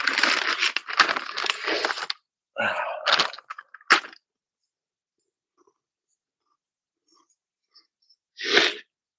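Loud, close crunching of a butter cookie being bitten and chewed, with a dense burst of crisp crunches, a few shorter bites, quiet pause, then one final crunch.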